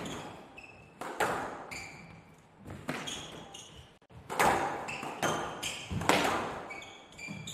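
Tennis rally at a professional match in Qatar: sharp racket hits on the ball trade back and forth with squeaking footsteps on a hard court, close and punchy, with crowd and court ambience between strokes.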